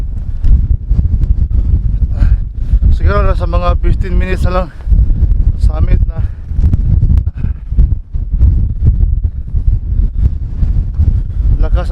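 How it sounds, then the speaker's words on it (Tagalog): Strong wind on Scafell Pike buffets the microphone with heavy, low rumbling gusts while a person talks over it. "ang lakas ng hangin."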